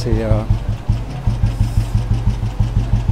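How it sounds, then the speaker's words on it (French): An old motorcycle engine running on a mountain road, a steady loud thumping beat with evenly spaced pulses; a voice speaks briefly at the start over it. "Et avec ce bruit typique de ces motos, ces anciennes motos."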